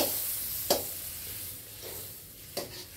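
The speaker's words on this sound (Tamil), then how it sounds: "பட்டர் வந்து நல்லா கரையட்டும்." Butter melts in a pan over low heat, giving a faint, steady sizzling hiss with a couple of brief clinks of stirring.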